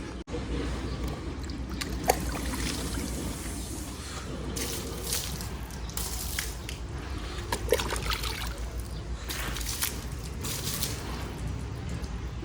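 Water sprays and splashes across a dusty Royal Enfield Bullet motorcycle, a steady close hiss with bursts of spattering and dripping on metal.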